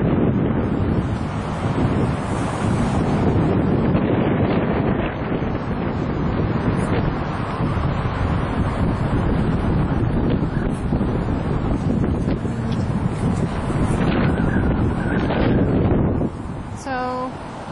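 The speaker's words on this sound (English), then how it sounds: "it is windy out" Strong wind gusts outdoors beside an old county historical museum batter the microphone with a loud, continuous, roaring rumble that ends in a brief lull.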